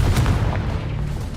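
A booming Confringo fire spell explosion goes off in the video game Hogwarts Legacy, a loud low blast with a rumbling tail lasting just over a second.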